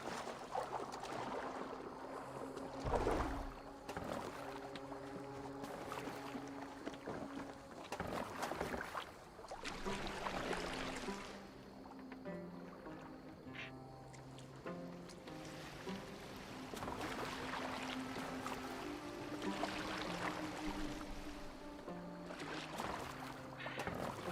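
A boat being rowed on water in the game Assassin's Creed Valhalla, with repeated oar splashes and lapping waves, faint and continuous over a long stretch.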